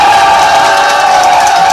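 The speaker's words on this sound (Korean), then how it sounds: "응원의 목소리로 함성과 함께 박수!" A dense crowd cheers and shouts at a Liberty Unification Party candidacy rally for Seoul's Gangseo district mayor by-election, a loud, steady roar of many voices with clapping blended in, continuous throughout.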